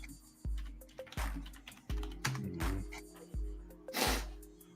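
Computer keyboard typing during a casual morning chat stream, a handful of separate clacky key strikes and short bursts spaced about a second apart, close and moderately loud against a low hum with no speech.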